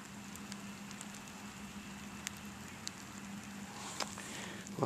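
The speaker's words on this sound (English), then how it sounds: "It's pouring the rain down." Rain falling steadily on an outdoor sports field in Fairbanks, Alaska, a soft continuous patter with a few sharper drops and taps, fairly quiet throughout with no talking.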